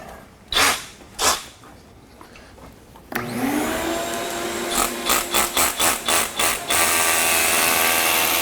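During a Nussbaum Jumbo HF 7 scissor lift installation, a vacuum starts up after two short bursts and runs loudly and steadily, with several brief pulses as it is worked over the floor.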